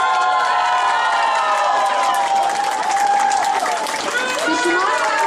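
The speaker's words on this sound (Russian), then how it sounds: "Давайте нашему казачонку аплодисменты" Applause and cheering from a festival crowd at a Cossack culture event, honoring a young Cossack boy; steady, loud clapping with whoops and voices throughout.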